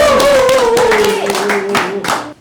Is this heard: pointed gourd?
no